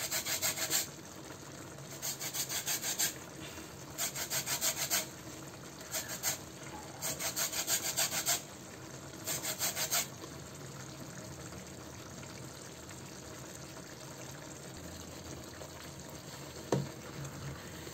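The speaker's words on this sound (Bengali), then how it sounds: "লেবুর খোসাটাকে আমি জাস্ট একটু ঘষে দিয়ে দিব, সাদাটা না গ্রিনটা দেব।" Green lemon peel grated for chicken kabsa, a series of rhythmic scraping rasps in short bursts, close and fairly loud, followed by quieter kitchen background.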